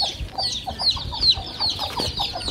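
An Aseel hen clucks in a steady run of short, sharp calls close by, with other chicken sounds around it and no one talking.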